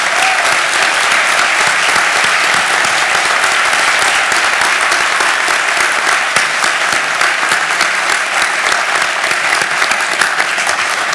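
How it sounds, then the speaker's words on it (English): Loud, steady applause from a large audience at a law school commencement ceremony, continuous clapping that fills the whole stretch without letting up. "I think we ought to give a round of applause to all the men and women who protect us"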